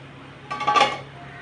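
A metal lid is set onto a pot of simmering shark curry, giving one brief, soft clink with a light rattle up close, alone against a quiet kitchen hum.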